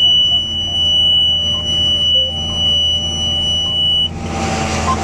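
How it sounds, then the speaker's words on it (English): A steady high-pitched electronic warning tone from a planter monitor sounds continuously over the rumble of farm machinery, then cuts off as a broader hiss takes over. "And here we go again, probably with another delightful beep."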